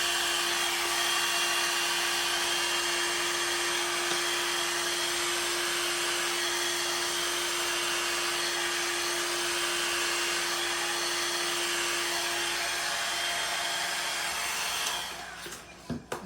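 A hair dryer blows air across an acrylic fluid-art bloom pour on coasters, a steady, close, loud whirring drone that holds for about fifteen seconds before shutting off with a few faint knocks.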